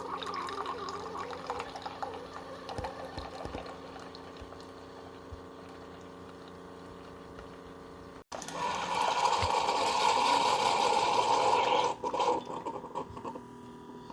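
Keurig K-Cafe brewer pushing a strong 6-ounce espresso K-Cup through, a steady pump hum with gurgling liquid that grows louder and fuller midway as the stream pours into the cup.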